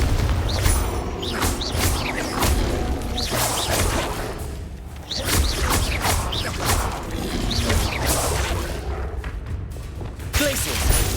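Repeated Confringo blasting curse explosions in Hogwarts Legacy combat boom and thud in close succession, mixed with whooshing spell casts and crashing impacts, with voices speaking throughout.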